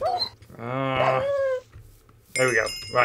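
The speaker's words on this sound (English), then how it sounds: "Oh, it's a hell dog." A whining, yelping hell dog creature from a Minecraft modpack gives two drawn-out harmonic whimpering cries close by, separated by a short gap, while someone talks briefly.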